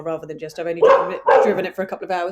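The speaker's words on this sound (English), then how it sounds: "sorry about my dogs" Two pet dogs bark and yip sharply at each other indoors, loud and close, with a person talking over the commotion.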